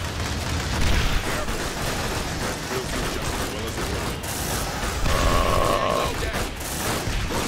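Marines firing guns in the video game Aliens: Dark Descent, a dense, sustained barrage of rapid gunfire with mechanical clatter that stays loud from start to finish and swells briefly near the end.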